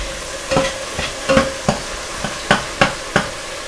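A spoon stirring simmering tomato spaghetti sauce with vegetables in a pot, a series of about eight distinct scraping knocks at an uneven pace over a soft bubbling sizzle, close and clear, with no voices.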